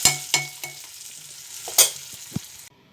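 Brinjal and tomato chutney frying in a pan, with soft sizzling broken by a few sharp stirring scrapes and clinks, fairly close and with no talking.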